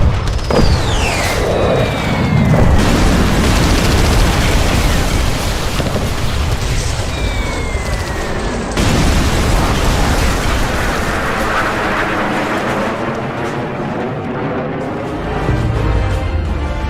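Heavy booming explosions from firing on enemy camp targets in a military strike, a loud continuous roar of blasts and rumbling with sweeping whistles, filling the whole stretch without pause.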